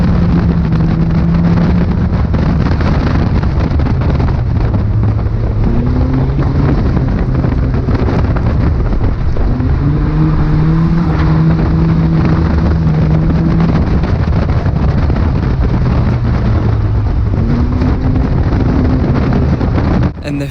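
Stock cars race hard around a track, their engines roaring loud and continuous with rising and falling pitch as they chase through the corners, with no talk over the din.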